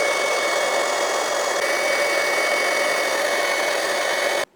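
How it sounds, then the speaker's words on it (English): A Stampin' Up heat tool blows steadily while melting embossing powder on a glass ball ornament, a loud, even fan whine with a faint high tone that runs without a break and then cuts off abruptly at the end. "We're going to take the Stampin' Up heat tool and we'll heat the embossing powder."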